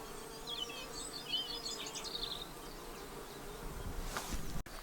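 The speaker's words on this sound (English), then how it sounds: "Bees." Bees buzz steadily close by, a continuous droning hum with brief louder passes, alone without talk and with faint outdoor background.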